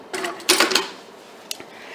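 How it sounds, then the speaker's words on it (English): A sewing machine stitching across the end of a fabric scrub cap, giving two short close mechanical whirring bursts followed by a brief click, with no talk. "Then I'm going to sew across the end."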